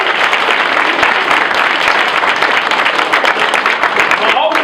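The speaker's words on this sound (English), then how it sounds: "You know why I was clapping up for AJ." Audience applause at a live show, steady dense clapping from a crowd sustained for several seconds, loud and close.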